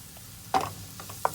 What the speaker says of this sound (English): And we're going to saute that as well.